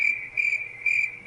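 A crickets-chirping sound effect plays as close, shrill trilling bursts repeating in an even rhythm, about three pulses across the short span, with nothing else heard.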